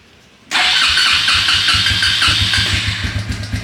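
A cheap $500 four-wheeler ATV engine, choked, cranks and catches abruptly, then runs loud and close in a rough, pulsing idle.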